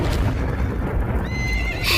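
Horses in a Hindi cartoon story whinny loudly and close, a shrill neigh rising over a thumping, clattering background of hooves across the short burst.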